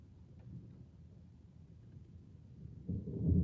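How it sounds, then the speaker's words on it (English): Low distant rumble of thunder on a long, lonely road, building slowly and swelling louder toward the end, with no talking. "You guys hear that thunder?"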